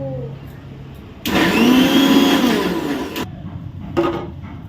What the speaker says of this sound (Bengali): মা হলে এটাকে শিলে বাটতো কিন্তু আমি তো শিলে বাটতে পারবো না অত ভালো করে আমি মিক্সিতেই বেটে নিলাম